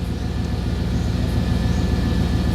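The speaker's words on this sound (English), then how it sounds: "I got the truck running." A truck engine idles steadily nearby, a continuous low rumble with an even throb and no talking.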